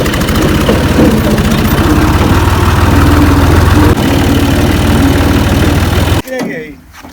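A tractor engine runs at a loud, steady chugging idle close by on farmland, then cuts off abruptly near the end, leaving brief quieter rustling.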